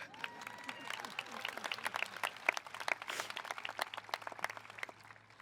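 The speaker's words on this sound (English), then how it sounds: "Yeah, we can clap it up for that." Audience applause at a 2019 high school graduation ceremony, a sustained wash of many hands clapping at moderate distance, with scattered cheers mixed in.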